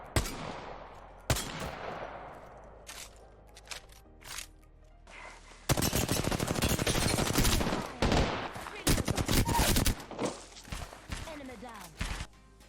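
G7 Scout rifle firing at training dummies in Apex Legends, sharp loud reports in scattered single shots and then a dense rapid burst in the second half, with clinking and handling noises between.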